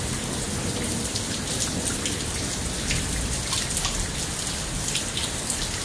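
Hard, steady rain hisses and patters on surfaces in a Lufkin, Texas thunderstorm, a dense even wash of drops with no clear thunder standing out.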